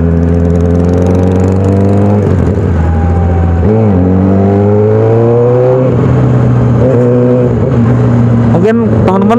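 A Kawasaki Ninja 250 FI motorcycle with an aftermarket exhaust idles loudly with a deep, bassy note, rising in several revs and dropping back, close to the listener.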